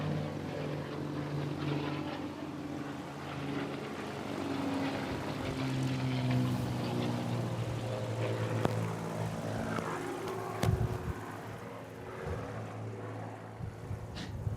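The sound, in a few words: aircraft engines starting up nearby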